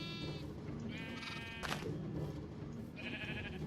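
Sheep in Minecraft bleat several times over steady background game sound, the calls coming in short separate bursts from a small penned flock inside a wool farm.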